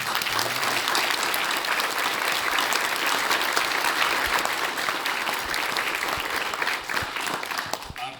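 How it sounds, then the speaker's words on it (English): A church congregation applauds at a pastoral anniversary service, dense sustained clapping filling the room for several seconds before thinning out at the end, with some voices mixed in. "please give him a round of applause"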